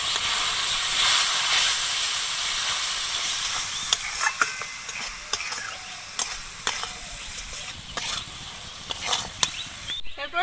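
Spice paste with a little water sizzles and hisses loudly in a pan for a village-style potol chingri curry, the hiss fading as sharp stirring clicks and scrapes punctuate it.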